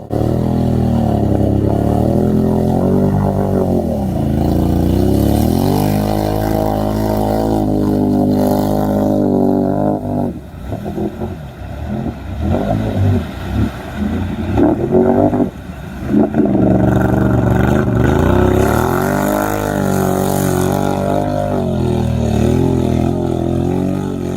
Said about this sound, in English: Some of these beasts are crazy powerful, engines roaring like monsters.